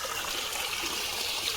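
Well water pumped up by an engine in rural Konkan trickles and splashes out in a steady, even rush of water noise.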